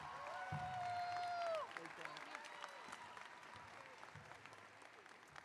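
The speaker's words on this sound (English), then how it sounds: "Let's give Anaisa another round of applause." A graduation audience at a continuation high school commencement applauds in a steady wash of clapping that continues for several seconds, with a brief tonal sound at the start.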